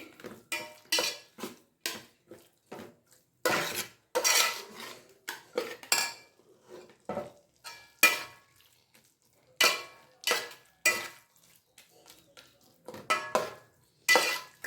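Grated raw mango is mixed into rice in a pan for mango chitranna, with a metal spoon scraping and clinking against the pot in repeated bursts separated by short pauses, close and clear with no voices.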